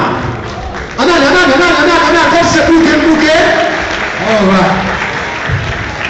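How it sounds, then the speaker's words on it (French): A crowd applauding steadily for a performing artist at a 60th birthday celebration, mixed with cheering voices and a loud hum. "Je vous demande d'applaudir très fort"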